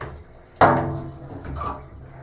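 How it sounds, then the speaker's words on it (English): Water gushes out of a lowered shower head while a water softener drains before regeneration, starting with a sudden splash and then running as a steady stream with faint dripping, with no talk. "you hear the water coming out? So the water's coming out."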